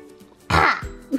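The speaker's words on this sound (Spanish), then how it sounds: "A ver cómo toses." A single throaty cough or throat clear, close and abrupt, with a little quiet before and after.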